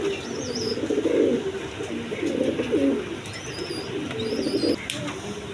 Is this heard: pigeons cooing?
yes